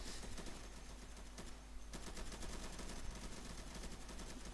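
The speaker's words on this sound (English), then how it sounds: "So I'm just walking around with my laser gun here, my laser beam gun" Rapid repeated zapping shots from a laser beam gun in a Roblox Peppa Pig survival game, a quiet, steady stream of pulses with a brief pause partway through.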